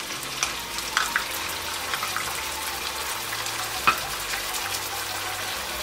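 Goat meat for Afghani gosht fries in a pan with yogurt, a steady sizzle with a few sharp stirring clinks and scrapes, close and moderately loud with no talking.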